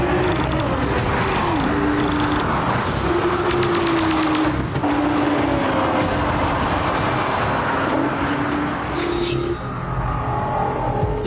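A Nissan GT-R's engine pulls hard in a sustained acceleration run, a loud continuous roar with rising engine tones and shifts, close and steady with no talking.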